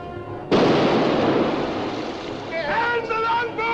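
A ship's cannons firing at sea in a 1945 pirate film: a sudden loud boom that rolls into a long rumbling decay, followed by raised voices shouting over the fading roar.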